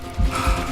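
A gun in the Western shooter game Call of Juarez: Gunslinger is reloaded with two quick, close mechanical clacks, a brief metallic ratcheting action heard alone.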